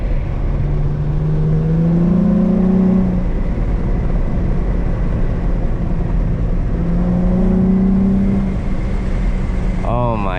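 A 2007 Infiniti G35 coupe's VQ V6 builds revs twice at night, each rising engine drone swelling loud and close inside the cabin, then settling back between pulls, with a brief voice at the very end.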